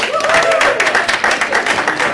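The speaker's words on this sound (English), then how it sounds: "can we get one more round of applause" Audience applause at the close of a presentation on collaborative online classroom technology, a steady dense patter of many hands clapping at close range for about two seconds with no talk over it.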